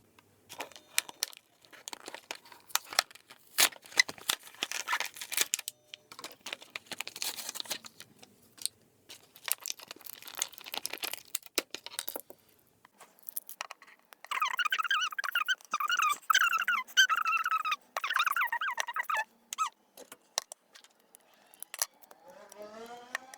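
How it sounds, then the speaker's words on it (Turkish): A tough plastic My Little Pony toy package being torn and pried open by hand, with sustained crinkling, tearing and squeaky plastic scraping in dense irregular bursts, close and fairly loud, no talking. "hayatımda açtığım en zor puni paketlerden bir tanesi denilebilir"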